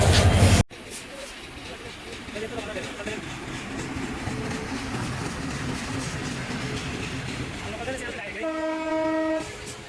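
The metre-gauge Mohanogor Express rolls past in a continuous close rumble after a short loud burst at the start, and its horn sounds one sustained blast near the end, with talking heard over the noise.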